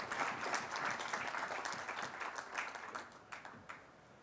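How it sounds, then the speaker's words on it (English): Conference audience applauding East African Community presidents and delegates, a moderate sustained patter of many hands clapping that gradually tapers off, heard from some distance in a large hall. "Please give a round of applause to our presidents from the East African community members"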